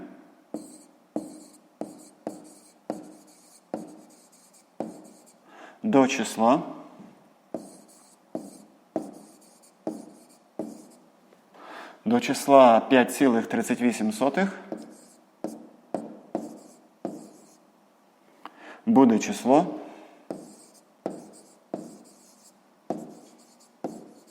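A pen scratches across paper while a sixth-grade math exercise on reciprocals is worked out, in short repeated strokes with a few longer bursts of scribbling, close and fairly quiet, with no speech.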